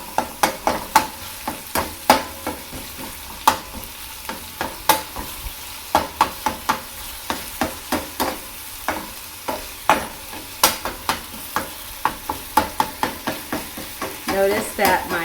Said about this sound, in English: we're going to cook this until we no longer see any pink.